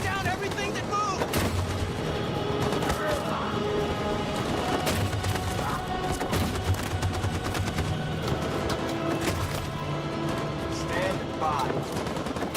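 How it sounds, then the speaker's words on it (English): Sustained machine gun fire in the Detroit: Become Human video game, dense overlapping bursts and booming gunfire filling the whole stretch, loud and close, with shouted voices mixed in the chaos. "That machine gun is taking down everything that moves!"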